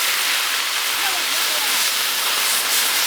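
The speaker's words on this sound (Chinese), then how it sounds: "咱们这个炸的好脆" Pork trotters deep-fry in hot oil, giving a dense, steady, close sizzling hiss that runs without a break for the whole few seconds.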